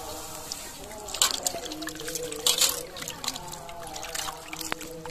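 Running water splashes and drips while raw chicken is rinsed and handled, with irregular louder sloshes, close by in an indoor space.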